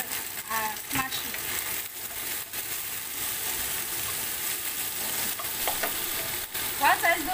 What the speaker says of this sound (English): And then saute the tomato until it gets soft or smashy